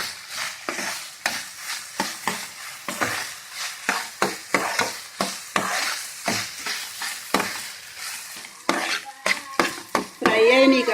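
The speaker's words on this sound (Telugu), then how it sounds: "బాగా ఫ్రై అయ్యే వరకు మనం ఫ్రై చేసుకోవాలి." Chicken pieces fry and sizzle in a pan for chilli chicken while a spoon stirs them in repeated scraping strokes. The sound is close and steady, and a brief clink comes near the end.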